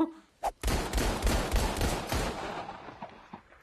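A burst of rifle gunfire from a film sounds as a dense, loud fusillade of overlapping shots that trails off after a few seconds, following one sharp opening crack.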